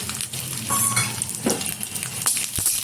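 Garlic cloves frying in a little oil in a wok, giving a steady close crackle and sizzle with scrapes and clinks of a spatula stirring against the pan throughout.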